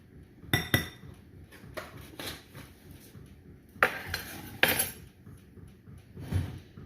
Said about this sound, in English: We're just going to give it a whisk to mix it all together